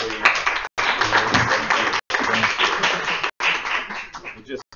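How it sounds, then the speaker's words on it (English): An audience claps at a science café on language development, a busy patter of hands that stops in several brief gaps, with talk mixed in among it. "I would like to give an applause to our three."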